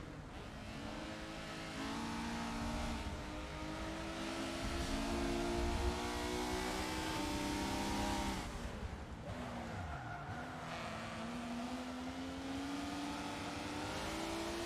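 Engine revving and tires squealing through a drift in the Forza Motorsport 7 video game, the car's pitch rising and falling steadily with a sustained screech, loud and close throughout.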